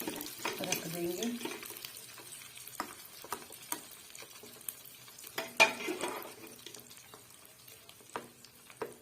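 Dal tadka sizzles in a kadhai while being stirred, with bursts of frying crackle, scraping stir strokes and occasional sharp clinks against the pan, fairly quiet and close.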